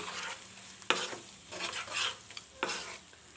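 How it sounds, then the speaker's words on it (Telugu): A green chili and curry leaf paste frying in oil, sizzling at moderate level with repeated scraping stirs of a spoon against the pan, no speech. "ఈ ముద్దను నూనెలో ఒకసారి బాగా వేపుకుందామండి"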